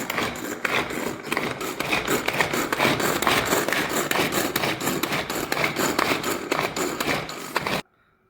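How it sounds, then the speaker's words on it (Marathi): Raw mango being finely chopped, a dense continuous scraping, rasping stream that stays loud and close throughout before cutting off abruptly near the end; no speech. "यामध्ये कैरी बारीक चिरून घ्यायची आहे"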